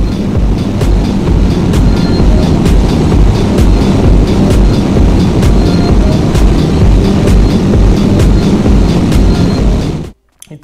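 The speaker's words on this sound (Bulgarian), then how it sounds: "този шум, който се образува от вятъра" Loud, constant wind roar from riding a motorcycle at high speed on a highway, with faint regular ticks under the rush before it cuts off abruptly near the end.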